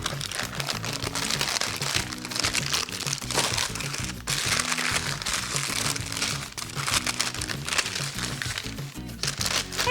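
Parchment paper crinkles and crackles steadily as a block of no-bake peanut butter fudge is popped out of a pan and flipped onto it, dense rustling close to the microphone with no voices.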